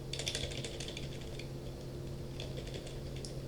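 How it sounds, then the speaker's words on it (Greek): A computer keyboard with stuck keys gives faint, quiet clattering keystrokes in bursts at the start and again later, over a low electrical hum. "Μου κόλλησε το πληκτρολόγιο."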